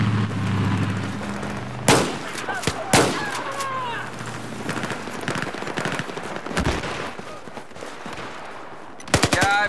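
Machine gun fire from the Battlefield 4 multiplayer video game: sharp, loud bursts and single cracks scattered across a noisy battlefield backdrop, with a tight cluster of rapid shots at the end.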